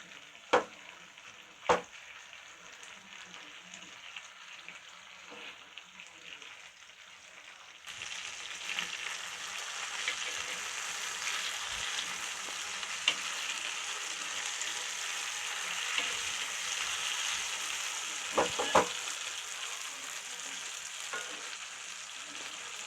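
Masala fish fries in a pan. A quieter crackle with a few sharp clicks swells into a fuller, continuous sizzle partway through, close and unbroken by speech.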